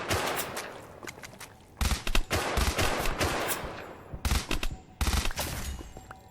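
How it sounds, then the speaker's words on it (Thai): Nonstop gunfire in a modded Minecraft map, with loud, dense rapid bursts in several clusters separated by brief gaps. "ยิงไม่หยุดเลยนะ"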